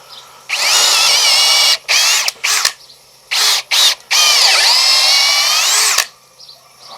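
An AEG BSB18BL cordless drill runs in loud, close bursts, spinning up and down through several short and long pulls of the trigger with pitch dipping under load, no voices.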